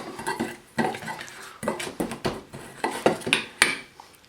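Dry ground spices — celery seed, ground peppers, cloves, allspice and cardamom — being stirred together in a bowl for Old Bay seasoning, a series of close scraping and clinking strokes in an uneven rhythm, with no talk.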